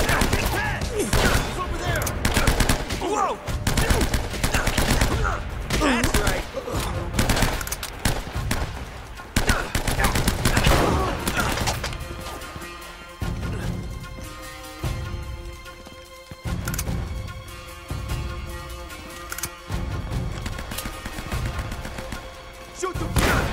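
Dense gunfire in the video game Uncharted: Drake's Fortune, with rapid bursts and single shots crowding the first half, then thinning into scattered reports and thuds over a steady game soundscape.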